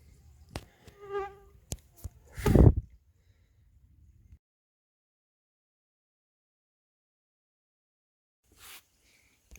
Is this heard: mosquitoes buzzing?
yes